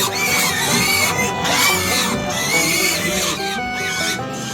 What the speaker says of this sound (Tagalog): Nagutom na ang baboy niyo. Nag-iingay na.